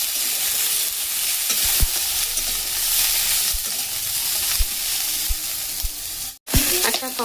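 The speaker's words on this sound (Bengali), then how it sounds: "দেখো, বেগুন আর আলুগুলো খুব সুন্দর দেখুন ভাজা হয়ে গেছে।" Pieces of eggplant and potato sizzle steadily in a hot pan, with occasional sharp clicks of a spatula stirring and scraping, close and fairly loud throughout.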